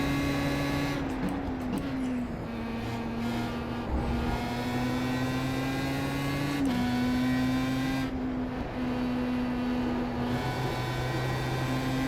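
Formula Mazda race car engine at speed on Okayama circuit, a continuous high-pitched drone heard from onboard with brief pitch dips at gear shifts, loud and steady.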